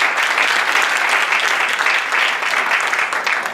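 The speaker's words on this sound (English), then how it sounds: "if we could give him a round of applause" Steady audience applause for Doug Wang at a Shaker Democratic Club community gathering, a dense even patter of many hands clapping close by for several seconds with no talking over it.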